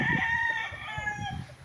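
A rooster crows once nearby on a farm with pig pens, a drawn-out strained call with some clucking-like texture, outdoors with no talking.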